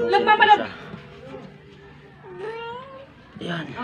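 A cat gives a drawn-out, rising meow in the middle of the clip, with people talking loudly before and after it near a spinner dryer undergoing a rubber bellow repair.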